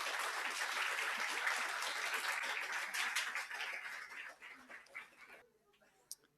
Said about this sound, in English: give yourselves a round of applause for being here with us